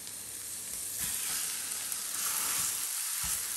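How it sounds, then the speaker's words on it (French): Minced meat for gozleme sizzles steadily in a pan, a continuous loud broadband hiss with a few soft low thumps from stirring, no voices present. "Et je fais revenir pendant plusieurs minutes. Après quelques minutes, je viens rajouter ma viande hachée."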